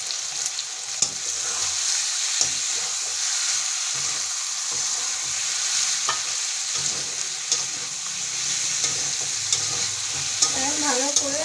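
Spice masala and shrimp sizzle steadily in a pan for a village-style Bengali prawn dish, with frequent scraping stirs and small clinks throughout.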